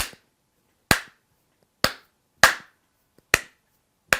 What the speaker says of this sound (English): we're clapping on 1, the and after 2, and the 4